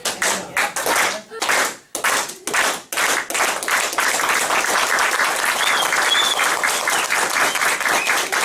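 An audience at a security forum does a unity clap: a few slow, spaced claps that speed up into rapid, continuous applause from the crowd, loud and close, with brief voices mixed in.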